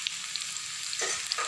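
Poha vada snacks fry in hot oil with a steady, close hiss and soft crackle, marked by small bubbling pops and a brief stir near the end.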